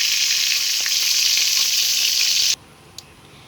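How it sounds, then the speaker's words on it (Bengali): Koi fish fry in oil with a loud, close, steady sizzle that cuts off abruptly partway through, leaving near quiet with one small knock. "মাছগুলো আমার ভাজা হয়ে গেছে"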